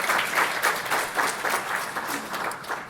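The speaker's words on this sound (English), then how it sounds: "that's a round of applause" Audience applause at a community luncheon, a steady wash of clapping at moderate distance that pulses slightly in intensity throughout.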